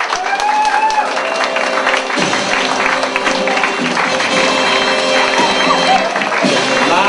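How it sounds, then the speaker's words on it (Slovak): Loud, continuous applause and cheering from a studio audience at a TV show party, dense clapping filling the whole stretch with voices mixed in. "potlesk teraz!"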